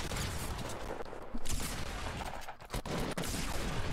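Pump shotguns and other weapons in the Fortnite Team Rumble video game fire in a dense, continuous battle din, with sharper blasts standing out at a few points over steady background gunfire.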